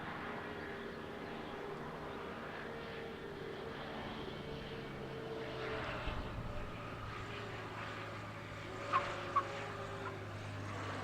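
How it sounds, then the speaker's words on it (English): A propeller sportsplane taxis at Lelystad Airport, its engine a steady low drone with tonal hum at moderate distance, under faint background noise and a couple of brief clicks. "A good looking airplane right there."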